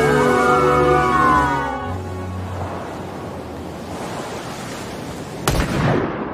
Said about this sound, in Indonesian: Sementara sirine polisi meraung di kejauhan.